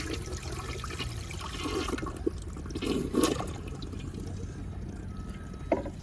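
A 1972 Kohler Wellworth toilet flushes with a sluggish, partly clogged drain: steady rushing and gurgling water with a few sharp splashes, fairly quiet and close.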